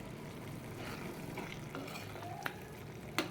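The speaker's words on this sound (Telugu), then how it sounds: "అది దగ్గరకు వచ్చేంత వరకు మనం ఇలాగే కలుపుతూ ఉండాలి" Carrot pulp halwa cooking in a pan, stirred steadily with a soft continuous sizzle and scraping, punctuated by a couple of sharp clinks of the spoon against the pan near the end.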